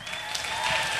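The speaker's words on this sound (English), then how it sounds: "Let's give her a nice round of applause" A brief, dense burst of crowd applause fills a cruise ship talent show on the Carnival Ecstasy, steady and close for about a second.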